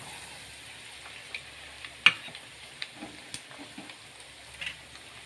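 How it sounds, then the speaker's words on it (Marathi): Asafoetida and spice masala hit hot oil for a raw mango pickle, giving a soft, steady sizzle with scattered light clicks of stirring close by and no talking. "आता तेल गरम झालेलं आहे त्याच्यामध्ये हिंग घालते हिंग घातल्यावर मसाले घालून घेते"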